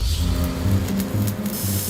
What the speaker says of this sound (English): the crew weld it to the trailer